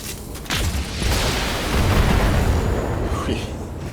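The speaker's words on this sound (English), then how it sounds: "Hit the Orion with a stray shot with a particle cannon." A particle cannon firing in the video game BattleTech: a loud, heavy booming blast that swells into a sustained broad rumbling roar lasting several seconds.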